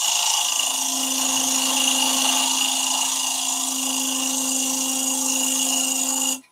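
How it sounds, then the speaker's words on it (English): A 6mm bowl gouge makes side hollowing cuts in wood spinning on a lathe, a steady loud whine with a strong tonal hum that holds for several seconds and then cuts off abruptly. "I'm going to start off with the small quarter inch or 6mm bowl gouge. Just going to do a few side cuts."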